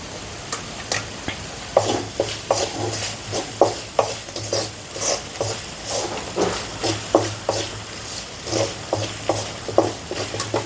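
Asafoetida powder sizzles in hot oil while a spoon stirs it in steady, rhythmic scrapes against the pan as a cardamom pickle is cooked. The frying hiss runs continuously beneath the repeated stirring strokes.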